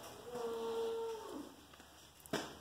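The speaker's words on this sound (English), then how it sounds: "hear the cows" Cows lowing on a Mennonite dairy farm, one long, clear moo held for about a second, then quieter farmyard ambience and a short thump near the end, no talking.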